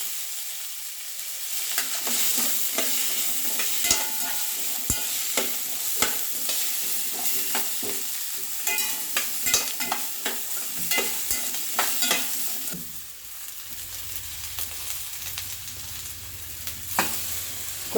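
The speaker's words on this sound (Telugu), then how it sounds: "వెజిటేబుల్స్ అన్నీ వేసుకుని ఒకసారి బాగా కలుపుతాం." Vegetables for korralu kichidi frying in a pan, a steady hiss of sizzling oil throughout with frequent sharp clicks and scrapes of a stirring spoon, close and continuous.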